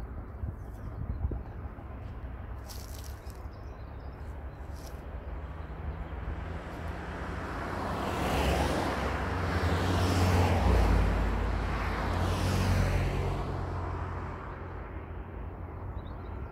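Road traffic on a busy roadway passing a small 1/18-scale WLtoys RC car, a broad rushing swell that builds and peaks around the middle before easing, with a steady low rumble underneath and no talk.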